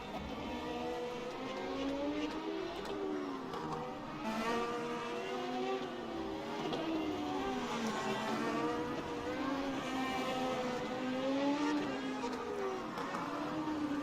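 Classic Formula 1 race cars lapping Silverstone in the rFactor 2 racing game, engines droning steadily with rising and falling pitch as they accelerate and shift, continuous and fairly loud, under commentary.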